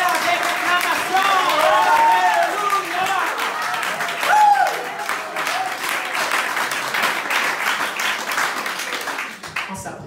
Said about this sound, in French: Venez avec acclamation.